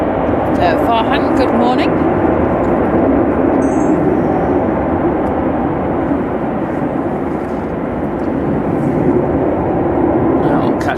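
Aircraft noise at a gusty Manchester Airport, a loud, steady roar blended with wind buffeting, while someone talks close over it.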